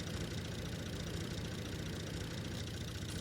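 A three-cylinder tractor engine idles in Farming Simulator 22, a steady, even rumble that runs unbroken and close throughout with no voices.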